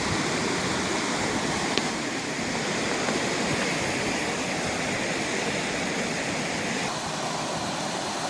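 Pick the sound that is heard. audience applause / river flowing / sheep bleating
river flowing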